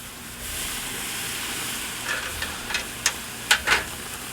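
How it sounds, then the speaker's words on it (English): Flank steak hitting a Camp Chef flat top grill, a steady close hiss of sizzling with a few sharper crackles and pops near the end. "let's go ahead and get this steak on"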